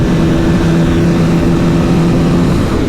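A KTM RC 200 motorcycle runs at full throttle while following a Yamaha R15 V3 on a road, giving a loud, constant engine drone with steady harmonic tones and wind rush and no talk.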